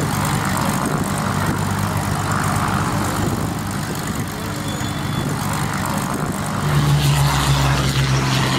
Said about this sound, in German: Sound des Rolls-Royce Merlin, der Hawker Hurricane 2B